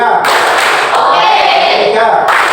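A primary school class claps in unison to a counted rhythm, a few bursts of group clapping up close mixed with voices talking over them.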